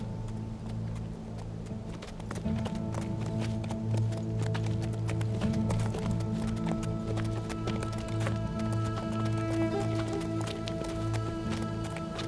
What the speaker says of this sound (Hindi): घोड़े यहीं बांध दो